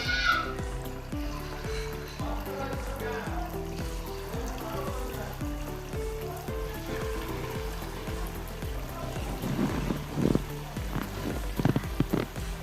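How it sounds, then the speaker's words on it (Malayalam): Bonda batter pinched by hand into hot rice bran oil fizzes and sizzles in a steady crackling patter, with a few louder pops near the end and some faint background noise. "എണ്ണ ചൂടായി കുറേശ്ശെ കൈകൊണ്ട് നുള്ളിയിടാം"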